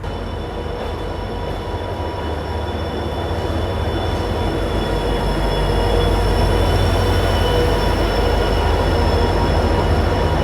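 A Somnath–Okha passenger train rolls into a station, a loud, steady rumble of wheels on rails with high squealing tones from the wheels, growing slightly louder as it nears, with no talk.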